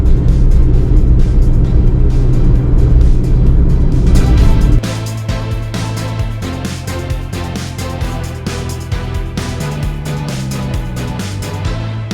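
A car drives along a road heading out of Kigali, Rwanda, giving a loud, steady engine and tyre rumble close up with a clear change in tone partway through, with no talking.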